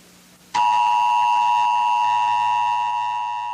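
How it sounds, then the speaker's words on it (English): An emergency broadcast system test tone cuts in abruptly after a quiet moment, a loud steady dual-pitch electronic drone that holds unbroken to the end, with no voices. "This station is conducting a test of the emergency broadcasting system."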